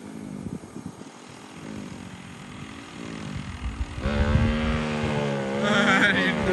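A motorcycle engine revs through a stiff, notchy gear change, its drone wavering and then climbing in pitch as it pulls away, loud and close, with voices partly heard over it.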